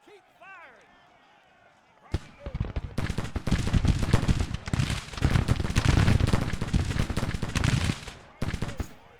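Rifle musket volleys from Union and Confederate lines in a Civil War battle in Grand Tactician: The Civil War crackle in dense, overlapping bursts of gunfire after a quiet start, with sharp separate shots near the end.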